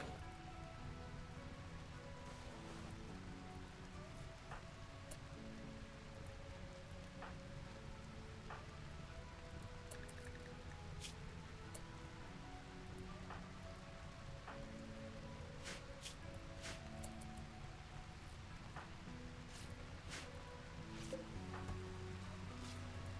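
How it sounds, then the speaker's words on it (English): Steady rain in a video game pattering on surfaces, continuous and even, with occasional louder drops and faint tonal background sounds. "Alright, at least it's raining."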